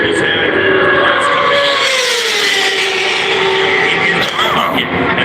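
A racing motorcycle roars past at the Daytona 200, its engine note loud and sustained with a rising then falling pitch as it sweeps by close to the microphone, with an announcer's voice running over the top.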